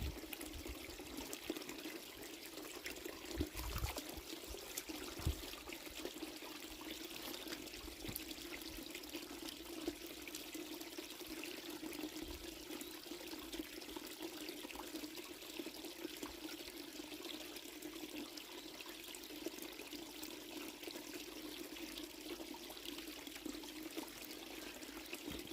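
Water trickles steadily from a fountain along the French Camino route, a soft continuous splashing that stays faint and even throughout, with no talking.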